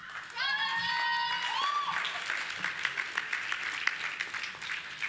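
Audience applause fills the hall at the 2014 OVNATAS Emmy Awards ceremony, a dense, steady clatter of clapping with a brief whooping cheer early on, continuing for several seconds without letup.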